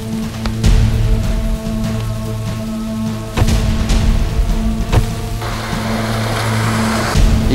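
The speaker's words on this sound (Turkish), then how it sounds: "Zaten yağmur da başladı." Rain beginning to fall, a steady patter with sharp drops hitting a surface close by, swelling in the final seconds, with a low engine hum underneath.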